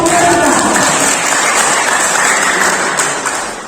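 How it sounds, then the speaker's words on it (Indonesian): An audience at the closing session of a data-based planning coaching clinic claps together in a steady, dense burst of applause that fades slightly at the end, with voices mixed in. "Kita aplaus Bapak Ibu ya"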